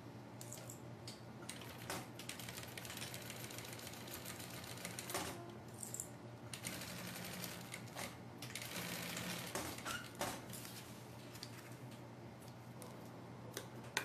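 A sewing machine runs steadily while stitching the second side of a colourful handmade bag, a continuous mechanical whirr with ticking needle rhythm and a few brief pauses, close and moderately loud throughout.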